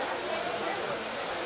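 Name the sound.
rain falling on school football pitch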